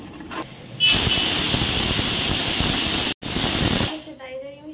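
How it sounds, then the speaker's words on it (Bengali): Loud steady hiss of a kitchen pressure cooker whistle venting steam, lasting about three seconds with a brief break before cutting off, a voice faintly audible around it. "প্রেসার কুকারটা ঢাকনা দিয়ে সিটিটা মারলে হয়ে যাবে এটা"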